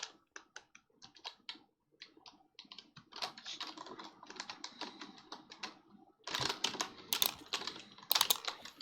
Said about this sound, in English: like, with the keys, because I'm playing the game and it's feeding through the mic.